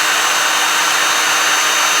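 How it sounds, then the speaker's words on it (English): A power drill bores through a maple and walnut guitar body, giving a steady high whine held loud and close for the whole stretch. "I think we're going to drill straight through here"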